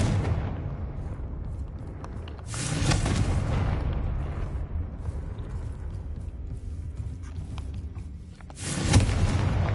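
A Confringo blasting spell in Hogwarts Legacy bursts out as a loud boom near the start, a rumbling swell in the middle, and another sharp blast near the end, with a dull roar filling the gaps.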